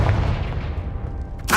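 A Confringo blasting spell explodes in Hogwarts Legacy with a deep booming blast that rumbles and fades over a second. A sharp new burst follows at the end.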